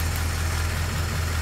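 A 1940 Ford Deluxe convertible's flathead engine idling, giving a steady low rumble with an even, unchanging drone close by.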